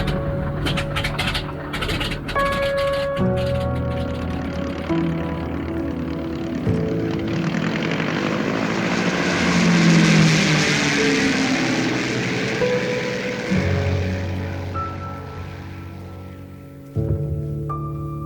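A float plane flies over northern lakes near a fishing lodge, its propeller engine droning steadily and swelling louder toward the middle before easing off, a continuous hum with shifting tones and no talk.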